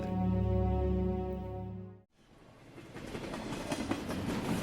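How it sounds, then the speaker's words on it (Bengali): A train's deep horn blares steadily, then cuts off, followed by the rising rumble and clatter of rail cars rolling past as it arrives at a station. "স্টেশনে ট্রেন থামতে না থামতেই যাত্রীদের মধ্যে হুলুস্থুলু বেঁধে গিয়েছিল।"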